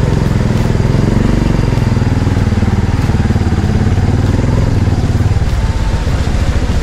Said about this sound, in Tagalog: Mabuti na lang mataas tong aking motor.